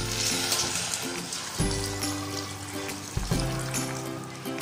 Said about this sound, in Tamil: இப்போ இதில் தண்ணி சேர்த்துடலாம்.